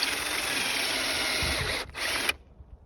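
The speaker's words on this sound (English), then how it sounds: "it's good sometimes to kind of go in and out with the drill bit" A power drill bores into a wooden post, whirring steadily at a high pitch, briefly cutting out and restarting before stopping, with a grinding, rattling edge as it bores.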